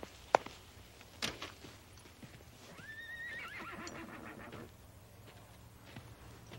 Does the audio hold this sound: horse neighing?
yes